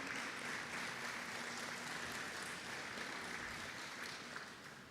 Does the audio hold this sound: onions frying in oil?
no